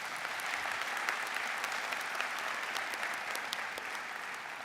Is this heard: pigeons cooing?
no